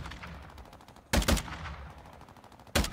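Rapid automatic gunfire in Call of Duty Warzone 2 Resurgence, with a fast rattling stream of shots punctuated by two loud, close bursts.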